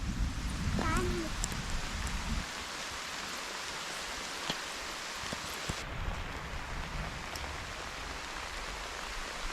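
Steady broadband patter of rain falling on surfaces, continuous throughout, with brief voices near the start and a few scattered knocks.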